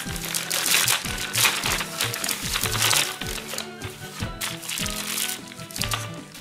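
Paper and packaging crinkle and crunch as a delivered parcel is torn open, a steady run of close crackling rustles with sharp bursts throughout.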